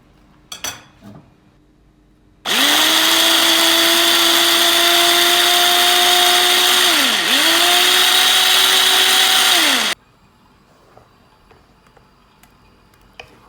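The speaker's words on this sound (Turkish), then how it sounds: "Blender'dan geçireceğiz domatesleri." An electric blender whirs loudly and steadily for several seconds chopping tomatoes, its motor pitch dipping briefly mid-run before stopping abruptly, with quiet kitchen clatter around it.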